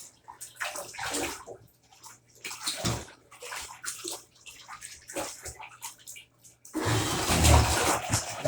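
Running water fills a bathtub, a steady rushing splash that comes and goes in bursts before growing louder and continuous near the end.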